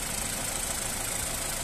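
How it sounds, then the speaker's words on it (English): A petrol 1.6 engine in a Ford Fiesta Ghia automatic hatchback idles steadily, an even, smooth mechanical hum recorded up close with no voices. "engine sound nice and smooth."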